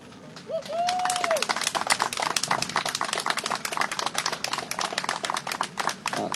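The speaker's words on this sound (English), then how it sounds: "I think we owe you all a great round of applause." An outdoor crowd at a Black History mural anniversary dedication ceremony applauds the project participants with dense, lively clapping that builds quickly and continues; a short whistle rises near the start.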